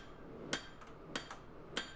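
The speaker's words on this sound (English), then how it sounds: "using my straight peen hammer to spread that out a touch" Straight peen hammer striking a hot tapered knife tang during forging of a San Mai Damascus Bowie blade, three sharp metallic blows about 0.6 seconds apart, each with a fainter rebound tap, quiet and close.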